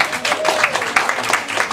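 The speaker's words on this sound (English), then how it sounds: "Everybody give them a round of applause." A short burst of audience applause at a cancer prevention event, dense clapping from a roomful of people, fairly loud and steady.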